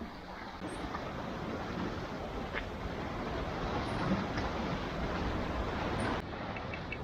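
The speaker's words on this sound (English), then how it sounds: "Listen to the sea lapping against the rocks." Sea waves wash against rocks on a breezy Croatian coast, a steady, close rush of water with some wind noise and no talking.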